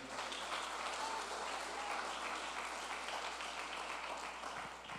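Church congregation clapping their hands for the Lord, a thick, continuous roar of applause from a large crowd, fairly distant and even, fading slightly at the end.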